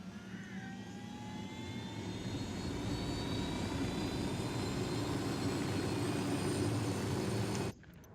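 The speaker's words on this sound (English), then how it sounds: "so we're gonna steal this helicopter" A helicopter engine in the video game Ghost Recon Wildlands drones steadily, swelling slightly in loudness before cutting off abruptly near the end, with no talking.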